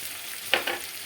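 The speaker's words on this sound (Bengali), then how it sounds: "পেঁয়াজের সঙ্গে এই রসুনটাও ঢেলে দেব" Onion and garlic frying in oil, a steady sizzle broken by two quick bursts of louder hissing.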